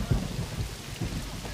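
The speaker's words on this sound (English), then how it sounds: "The storm was coming right at them." A thunderstorm with heavy rain pours steadily while low rumbles of thunder roll underneath, brief and fairly faint.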